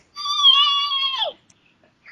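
A voice imitates Gizmo, the small creature from Gremlins, screaming: one sustained, high, wavering squeal of about a second that bends downward at the end, fairly close and not very loud.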